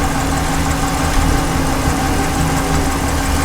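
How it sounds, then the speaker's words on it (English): A Chrysler, Dodge, Jeep or Ram engine paired with an 8-speed 8HP70 transmission idles at a close, steady mid-pitched rumble with a faint knocking texture and no voices. "the engine is running"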